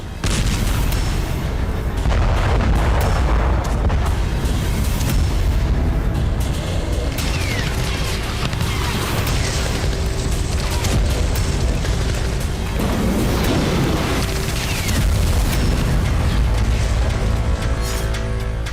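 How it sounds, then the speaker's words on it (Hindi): Russian artillery fire during urban fighting in Kostiantynivka: a loud, continuous barrage of heavy booms and blasts rolling through the whole stretch with no talk. "रूसी आर्टिलरी कोस्तियांतिनिवका के अलग अलग मोर्चों पर बारूद बरसा रही है"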